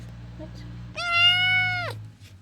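A single drawn-out meow from a kitten, close and clear, rising then falling, over a steady low hum.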